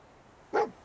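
A single short dog bark in Fallout 4, sharp and fairly close against a quiet background.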